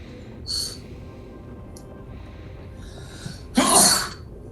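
A short sniffle comes first, then a single loud, explosive sneeze close by near the end, over a low background hum.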